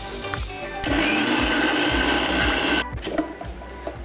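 A blender grinds mango with milk for Mango Mastani, its motor roaring loudly and steadily for about two seconds before cutting off, with some knocking and handling sounds around it.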